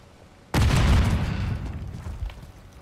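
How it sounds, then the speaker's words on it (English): A loud, close grenade blast in the Modern Warfare 3 multiplayer shooter, an abrupt deep boom after near silence, rolling off into a long rumbling decay. "Tossing grenade!"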